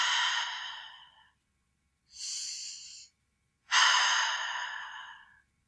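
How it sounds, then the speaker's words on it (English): Three deep, slow breaths come close and alone, each an airy whoosh that swells and fades, with short silent pauses between them. "We breathe in through the nose and out through the mouth."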